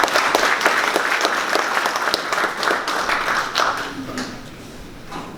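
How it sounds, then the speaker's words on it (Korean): Audience applause at a plastics forum as a guest speaker is welcomed: a dense burst of clapping from a seated crowd, individual claps audible, gradually thinning and fading toward the end. "큰 박수로 환영해 주시면 감사하겠습니다."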